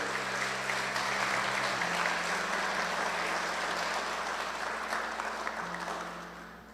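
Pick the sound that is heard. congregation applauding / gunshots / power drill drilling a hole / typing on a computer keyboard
congregation applauding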